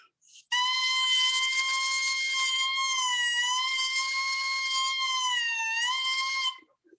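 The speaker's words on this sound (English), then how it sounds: "you'll hear that we start to get what's called the crow of our reeds" An oboe reed crows alone, played slightly dry: a sustained, buzzy, harmonic-rich squawk held for about six seconds, wavering slightly in pitch twice before cutting off, close and loud.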